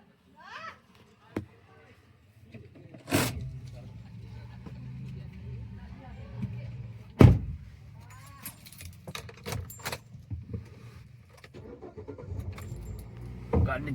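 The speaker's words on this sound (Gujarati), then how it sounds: "ગાડી ચાલુ કરીએ, સીટ હમી કરી દઈએ." A car is started after a jangle of keys: a short cranking burst, then a low steady engine idle with more clicks and rattles in the cabin, while a voice talks at times.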